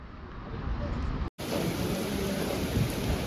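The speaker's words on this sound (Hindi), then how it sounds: "और बारिश हो गई स्टार्ट" Rain sets in during a motorcycle ride toward Chopta, a steady loud hiss of falling rain and wind that fills the whole stretch, broken by one brief dropout.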